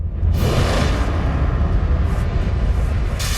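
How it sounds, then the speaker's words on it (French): Explosion sound effect of antimatter blowing outward and destroying the whole Earth: a loud, sustained low roar and rumble that swells in with a brief whoosh and holds steady, with no voices. "L'antimatière explosera vers l'extérieur et détruira toute la planète."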